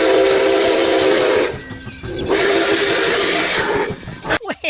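Toy steam locomotive letting out a loud, hissing whistle in two long sustained blasts with a short dip between them, followed by a brief clatter at the end.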